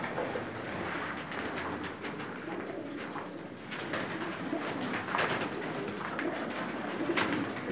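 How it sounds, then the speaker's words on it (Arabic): Pigeons coo nearby in a loft, with soft repeated low calls over continuous rustling and background noise that lasts throughout. "فرد الحمام طبعا بقلب فرد الحمام الصحه العامه بتاعته بشوفها الاول"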